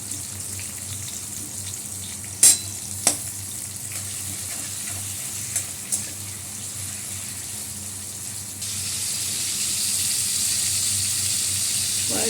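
Tomato, salt and prawns frying in a pan make a steady close sizzle, with two sharp clinks early on and a brighter, louder hiss rising for the last few seconds.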